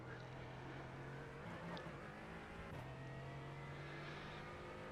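Mercedes-AMG GT4 engine in iRacing on the Nürburgring Combined circuit as the driver lifts and brakes, downshifting toward second gear: a loud, steady engine drone that steps down in pitch twice, with no talking.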